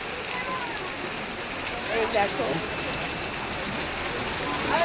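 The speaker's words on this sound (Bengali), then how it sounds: "দেখো বাইরে কীরকম বৃষ্টি হচ্ছে" Rain pours beside the beach at Digha in a soft, steady hiss, with people talking close by over it.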